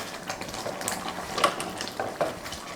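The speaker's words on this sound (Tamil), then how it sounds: "பாருங்கள், நல்லா கொதிக்க ஆரம்பிச்சிருச்சு." A pot of lentils bubbles and hisses at a steady simmer, with soft irregular pops and crackles close by.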